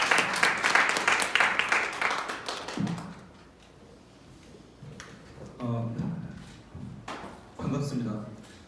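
Applause in a seminary lecture hall welcoming a pastor, with dense clapping for about three seconds before fading into quiet room noise and a few spoken words.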